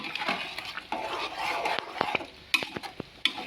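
Chili powder being mixed into layer chicken for biryani: a spoon scrapes around the pot, with soft wet stirring, then a cluster of sharp metallic taps near the end. Close and clear, with no one talking.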